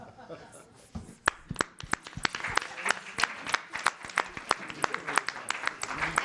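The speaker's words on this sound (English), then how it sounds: "give these people a standing round of applause as you then go to your table" A conference audience after a morning panel gives a standing ovation. Scattered claps build into dense, sustained applause at moderate distance, with voices faintly underneath.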